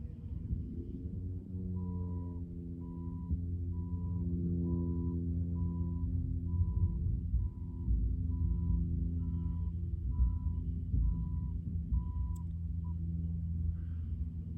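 A reversing truck's backup alarm beeps in an even, repeating rhythm, about a dozen tones, over a steady low engine rumble that fills the background.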